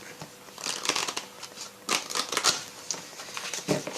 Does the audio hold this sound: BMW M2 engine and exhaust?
no